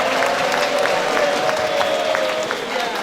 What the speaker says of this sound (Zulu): Asiphinde lishaye ihlombe bazalwane.